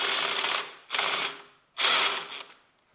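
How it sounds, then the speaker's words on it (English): An electric driver whirs in three bursts while it removes bolts from beneath the 1.5-litre engine of a 2002–2009 Toyota Prius. The bursts are close and loud, with a ratcheting mechanical edge and brief lulls between them. "now I take my electric driver"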